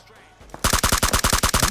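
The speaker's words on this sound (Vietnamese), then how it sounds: "Cái tiếng súng này chắc chắn là tiếng người, không phải là tiếng boss đâu anh em ạ." Rapid automatic gunfire in PUBG Mobile on the desert map, a dense burst of about a dozen sharp, loud shots in quick rhythm following a quieter moment.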